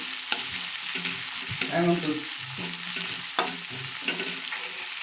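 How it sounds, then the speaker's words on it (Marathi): Chickpea-greens thecha is roasted in a pan with browned onion. A close, steady sizzle runs under repeated spatula scrapes that come every second or so, with one busier burst of stirring partway through. "आता हे ठेसा याच्यामध्ये टाकून घेऊ आणि याला पण थोडंसं भाजू देऊ"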